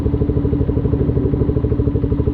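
A Yamaha Flame 150i motorcycle engine runs, with a steady close loud pulsing chug at a fast even rhythm.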